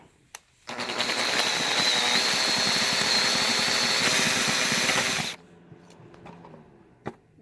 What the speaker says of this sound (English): we're just slowly drilling this till it drills the head out of the way